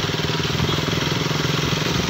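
A motorcycle engine drones steadily while riding on a bike outing, a continuous mid-pitched hum with a rapid pulsing rhythm, close and fairly loud, with no talking.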